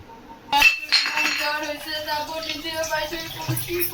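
Dishes are washed by hand, opening with a sharp clatter of clinking crockery followed by lighter knocks and rattles, while a voice carries on in the background.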